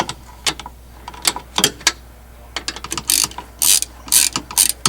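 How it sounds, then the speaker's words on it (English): A ratchet with an extension and deep socket loosening 1/2 inch nuts during heater core work on a 2006 Jeep Wrangler TJ, giving close, loud bursts of rapid clicking separated by short pauses. "putting the socket on, and then putting the ratchet and extension on a little easier to get to"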